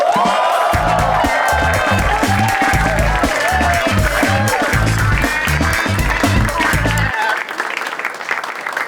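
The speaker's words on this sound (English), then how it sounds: "Please give a huge round of applause for Azim Banatwala." Studio audience applause and cheering on a comedy panel game show, a dense wash of clapping and whoops mixed with a loud rhythmic music sting that cuts off near the end, leaving a fainter tail.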